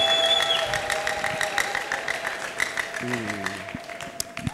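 A church congregation claps together in a dense, sustained burst of applause during a service, with a voice and a sustained keyboard tone over the clapping.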